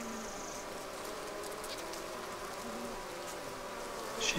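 Honey bees buzz steadily inside a hive where a newly installed queen is laying eggs, a dense continuous drone with faint wing flicks, close and even throughout.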